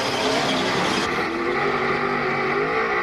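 A NASCAR stock car pulls away from pit road after a fuel stop at the 2003 Tropicana 400, its engine note roaring loud and close before easing slightly, with no voices.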